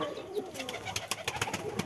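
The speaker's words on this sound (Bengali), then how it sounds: "এটা পিওর জালালি কবুতরের বাচ্চা" Jalali pigeon chicks in a village coop in winter, soft close cooing and flutter-like murmurs with quick rhythmic pulses, faint and steady.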